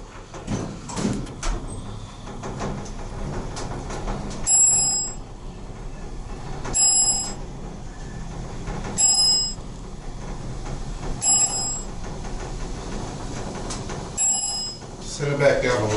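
A relay-logic Dover traction elevator at Bay Plaza in Webster, Texas chimes a bright bell at regular intervals, about five single dings spaced a couple of seconds apart, over the low hum of the moving car as people talk.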